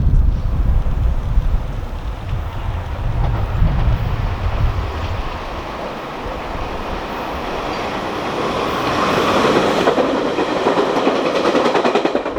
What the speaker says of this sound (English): As commuter trains storm out of Scarborough GO Station